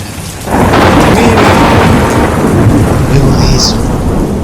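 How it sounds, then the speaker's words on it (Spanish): A loud thunderstorm with heavy rain pouring steadily, deep rumbling thunder rolling through after a quieter opening, no voices. "no hubo más que sonido a lluvia y estruendo"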